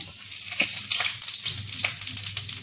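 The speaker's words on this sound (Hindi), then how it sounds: "ये तेल हो गया है, इसमें ये सब गरम मसाला डाल देंगे।" Garam masala and ginger-garlic paste frying in hot oil for a broken-egg gravy, giving a close, continuous crackling sizzle with small spattering pops throughout.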